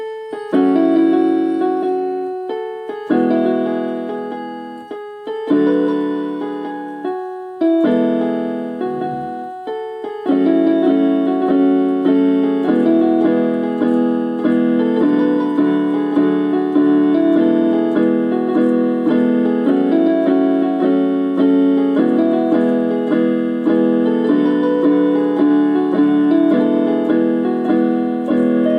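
A piano melody of a song played alone, starting with separated phrases and pauses, then flowing into continuous chords and notes at a steady, moderate volume.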